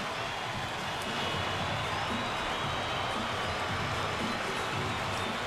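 Baseball crowd at a Cleveland ballpark cheering pitcher Andrew Miller's return to the diamond, a steady, dense roar of voices and applause filling the whole stretch at even loudness, with a distant announcer-like voice faintly underneath.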